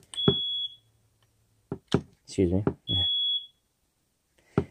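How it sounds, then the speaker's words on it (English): A household smoke detector with dying batteries gives two short, high, piercing chirps a second or so apart, close by, between bits of quiet talk and clicking handling noises. "If you heard that beeping, it's my smoke detector. I think the batteries are dying."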